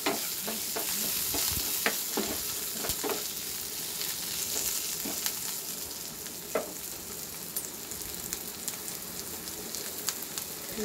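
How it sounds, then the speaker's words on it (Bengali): Onions frying in a pan for chicken do pyaza, a steady crackling sizzle broken by irregular scraping and tapping as a spoon stirs them, close and moderately loud. "নাড়িয়ে দিতে হবে ভালো করে"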